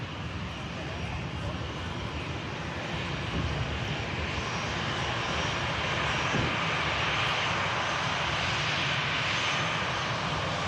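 At Manchester Airport an EasyJet airliner on its arrival from Palma gives off a steady, broad engine roar that holds evenly throughout, with voices faintly underneath.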